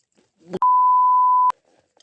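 A steady censorship bleep tone of about one second covers swearing by an angler during float fishing for tench, with brief speech just before it and quiet murmurs after.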